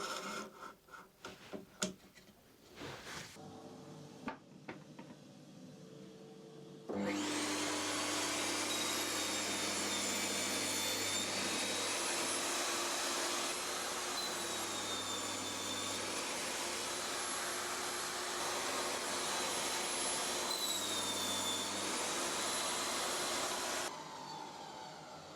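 A table saw fitted with a fresh Freud blade cuts wood pieces to length against a miter gauge stop, a loud steady whine with sustained tonal ringing running for about seventeen seconds after a few soft knocks, then spinning down.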